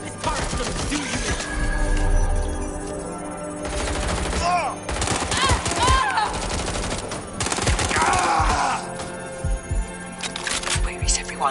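A turret's machine gun in Watch Dogs Legion fires in loud, rapid bursts that stop and restart, with game voices talking in between.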